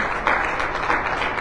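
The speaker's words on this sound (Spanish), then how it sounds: "Con un aplauso" A church congregation applauds at the close of a Sunday Bible study, a dense, steady wash of many hands clapping together, loud and close throughout.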